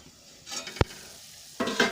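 Handvo batter topped with sesame seeds sizzles softly in a hot oiled pan, with one sharp click partway through before the frying noise swells again.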